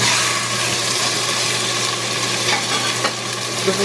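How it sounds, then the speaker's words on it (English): Boneless pork sizzles and crackles steadily in a smoking hot skillet, a loud continuous frying hiss with small pops and faint stirring scrapes, no talking. "I got my skillet going and it is pretty much smoking hot. I'm going to go ahead and add in the pork."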